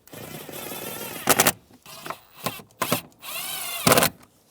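A power driver sets screws into the side of a Chevrolet Trailblazer dash panel, giving several short whirring bursts separated by pauses and close to the microphone.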